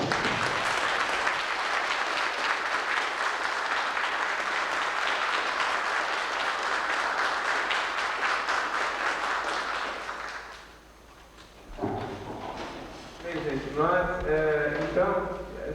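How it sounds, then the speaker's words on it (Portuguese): A standing audience at a union congress gives a tribute round of applause, loud continuous clapping for about ten seconds that dies down, followed by a voice speaking. "eu queria que a gente fizesse em coro, né, de pé, uma salva de palmas a esses companheiros"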